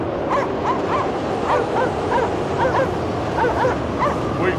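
Repeated high, yipping barks from a dog in the frozen setting of Cryostasis, coming in an even rhythm of roughly eight barks against a continuous low wind-like rumble.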